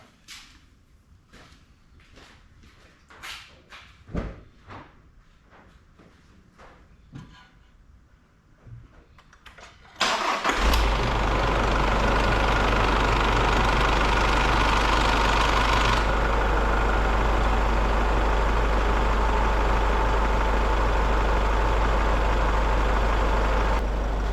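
Mazda BT50 / Isuzu Dmax 4JJ3 diesel engine after a filter service: quiet clicks and shuffling, then the engine cranks and catches about halfway through, settling into a loud, steady idle.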